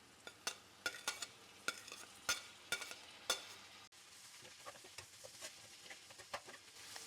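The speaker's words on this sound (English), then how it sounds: "I'm going to add my purslane in so it can warm through with everything." Purslane, green tomatoes and red bell pepper are sautéed in a pan, with a spoon scraping and clicking against the pan in irregular strokes over a faint, steady sizzle.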